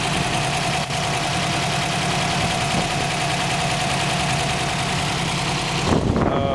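A rebuilt engine in a 1960 Mercury truck idles loudly and steadily with a rough, knocking rumble, then revs briefly near the end.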